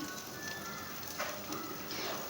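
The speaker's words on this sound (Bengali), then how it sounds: "তারপর আমি কড়াইয়ে তেল দিয়ে তাতে গরম মশলা দিয়ে দিলাম, দারচিনি এলাচ দিলাম, তারপর দিলাম পেঁয়াজ কুচি" Chopped onion frying in hot oil in a kadai with garam masala, cinnamon and cardamom, a steady close sizzle with soft crackles and a few brief stirring bursts, no talk.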